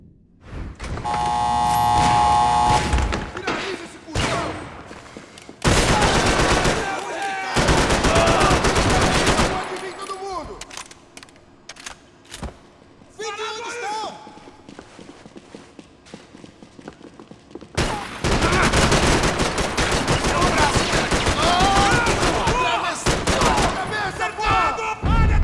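Rapid bursts of gunfire from a laser-sight gun in the video game Max Payne 3, loud, dense volleys with brief pauses and scattered clatter between them.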